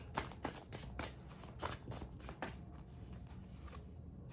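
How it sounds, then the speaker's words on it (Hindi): A deck of tarot cards being shuffled by hand: quick papery flicks and riffles repeating in a brisk rhythm, close up and soft, ending in a short silence. "let me shuffle the cards"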